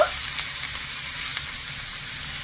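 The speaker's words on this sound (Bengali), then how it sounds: "ভালো করে নেড়েচেড়ে একটু মিশিয়ে নেব" Shredded cabbage for a paratha filling being stirred in a hot pan, giving a steady, even sizzle with faint scraping underneath and no voices.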